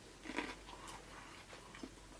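Crisp bites and crunches into an unpeeled raw carrot, with two or three quiet snaps spread across a short stretch and faint chewing in between, close to the mic.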